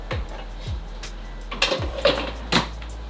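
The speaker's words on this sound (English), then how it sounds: "we've just flipped the pan fried schnitzel" Pan-fried chicken-free schnitzel is flipped in a pan, producing a handful of close metallic clatters and scraping knocks spread over a few seconds against a low steady hum.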